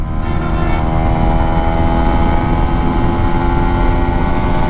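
A QJ Motor SRV160 motorcycle engine roars loud and close, holding a steady dense drone as it pulls through the gears, with no talk over it.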